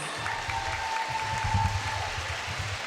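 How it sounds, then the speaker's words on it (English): Steady applause from an audience at a charity gala fills the clip, a dense wash of clapping at moderate loudness with no voices over it. "give all of our auction winners a big round of applause"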